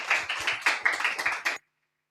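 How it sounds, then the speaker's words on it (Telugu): An audience at a church family-blessing prayer gathering claps in a quick burst of loud, closely spaced hand claps for about a second and a half, then stops abruptly into silence. "అందరూ కూడా చప్పట్లు కొట్టి"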